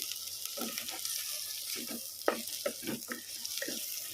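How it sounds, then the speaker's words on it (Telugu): Mutton curry with salt and chili powder is stirred in a pan, soft scraping strokes repeating in an irregular rhythm over a quiet background hiss of cooking. "ఇది కూడా బాగా ఇట్లా కలుపుకుందాం మంచి ఉప్పు కారం అన్నీ కట్టాలి"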